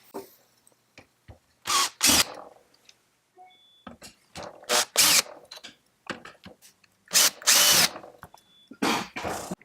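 A power screwdriver on a low torque setting removes a wire clamp screw on a Gene Cafe CBR-101 coffee roaster, in several short whirring bursts with small clicks and handling noises between them.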